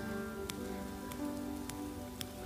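A church congregation taps their thumbs against their palms to imitate rain, producing a soft, continuous patter with a few sharper clicks scattered across the moment.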